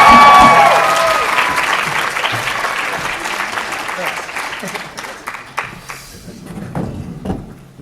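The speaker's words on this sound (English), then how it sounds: "Give yourselves a round of applause." Audience applause as a guest is welcomed onto the stage at a live Adventure Time conversation event, loud at first, then fading into scattered clapping with a few thumps and speech mixed in.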